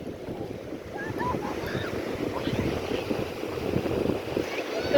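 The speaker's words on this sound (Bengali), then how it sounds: "সাগরের গর্জন শুনুন" Sea waves roar steadily along the Arabian Sea shore, a continuous loud surf wash with wind buffeting the microphone and faint voices in the background.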